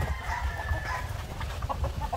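Hens clucking on a Filipino chicken farm where eggs are collected in the morning, a busy, continuous mix of fowl calls with a rooster-like crow, moderately close over steady farmyard background noise.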